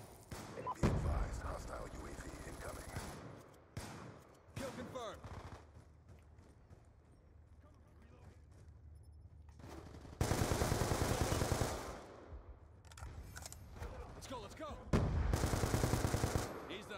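Black Ops 2 gunfire: loud automatic bursts near the start and again later, dense sustained volleys around the middle and end, with talk underneath.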